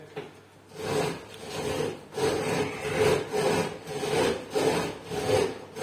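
A steady grinding rasp from a home grain mill grinding wheat into flour, repeating in rhythmic strokes roughly one per second, close up with no talking.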